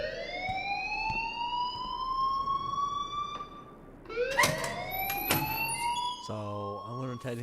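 An alarm wails in rising sweeps in the video game Life is Strange, loud and close, with a second wavering tone joining partway through.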